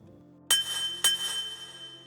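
Two bright metallic bell strikes, the Bell 2 sample from a Drumulator Digirock drum machine chip, about half a second apart, each ringing with a long shimmering sustain, crisp and close, with no voices.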